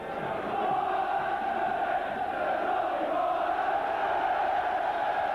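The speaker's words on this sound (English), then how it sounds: "Tremendous cheers from the popular side" Spectators at a 1988 St Helens versus Wigan rugby league match cheer and chant from the terraces, a broad, echoing roar that rises early and holds steady and loud.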